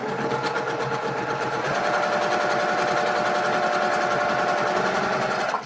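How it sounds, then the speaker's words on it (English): A sewing machine runs continuously as quilt blocks for a sampler quilt are chain stitched one after another, a steady close mechanical whir with no pauses. "I'm just chain stitching these together, one after another"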